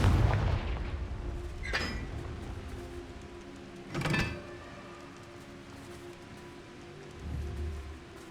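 Fire-blast spells from Hogwarts Legacy burst in a few separate booming hits, with a sharp explosion near the middle and lighter crackling blasts at the start and end over a low rumbling game ambience.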